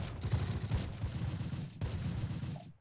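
Sustained gunfire from a World War II battle in the strategy game Close Combat: The Longest Day, a dense rattle of overlapping shots at moderate distance with a brief gap near the end.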